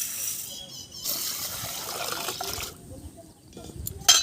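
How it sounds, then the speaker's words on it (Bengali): Water gushes and sloshes as lentils (dal) are washed by hand in a kitchen, running water and swirling rinsing sounds throughout, with brief clinks and a faint voice in the background. "এখন আমি ডালটা ধুয়ে নেব।"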